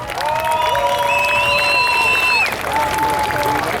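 Crowd applause and cheering for a runner finishing a course at a tractor show fun event in Malá Čierna, loud and continuous, with high shouts and whistle-like cheers above the clapping and a brief dip near the end.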